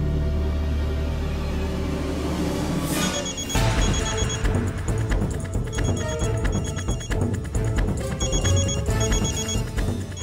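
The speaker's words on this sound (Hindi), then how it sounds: "फोन की आवाज तो" An indoor telephone rings over a dramatic music bed. Its bell comes in repeated regular bursts after a swelling whoosh, and no one speaks.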